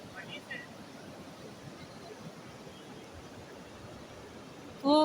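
The Neelum River flows over scattered stones in Kashmir, a steady, broad rushing wash heard from nearby with no break, ending in a short loud sound.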